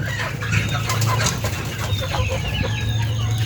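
Backyard chickens clucking inside a range-net enclosure, several birds calling in overlapping bursts close by over a low steady hum, with no voices.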